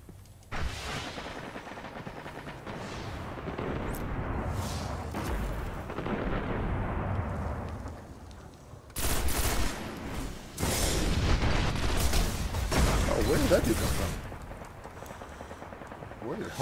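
Rifle gunfire in the video game Destiny, heard as repeated booming single shots and bursts scattered across the stretch, loud and sharp. Players talk intermittently underneath.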